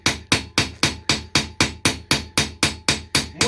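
Metal hammered cold on an anvil while working a coat-of-arms shield, about thirteen sharp, ringing blows struck in a steady, even rhythm, each one close, loud and decaying quickly before the next.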